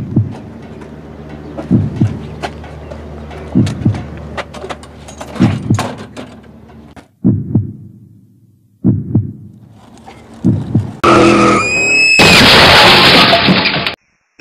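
Drunk-driving crash in a public service spot: heavy thumping beats give way to a sharp squealing skid and a loud, sustained crash of a car wreck near the end, with no talking.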